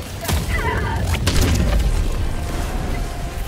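A railcannon strike in Helldivers 2 hits with a heavy, rumbling boom and a sharp crack at the start, then a long, dense roar of game noise follows.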